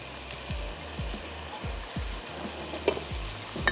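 Lentils and spices stirred in a pot for a daal and rice dish make soft scraping strokes in a regular rhythm over a faint sizzle, with a few light clinks near the end.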